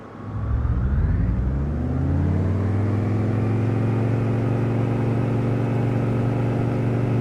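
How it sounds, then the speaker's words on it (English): A small aircraft engine in Microsoft Flight on PC throttles up for takeoff, rising quickly into a loud, steady droning whir that holds constant with a strong low hum, with no talking. "just push the throttle forward for takeoff"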